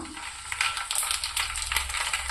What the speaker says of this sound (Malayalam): നമുക്ക് എണ്ണ ചൂടായിട്ടുണ്ട് നമുക്ക് കടുക് ഇട്ട് കൊടുക്കാം